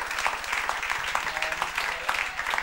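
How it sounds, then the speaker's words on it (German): An audience at a live concert claps to welcome a guest onto the stage, with fairly dense applause holding steady under a low rhythmic hum. "Genau, deshalb klatsch nochmal."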